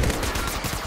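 A quick, rapid burst of automatic gunfire from the Apex Legends Mobile mobile game, several closely spaced loud shots in a tight rhythm lasting about a second.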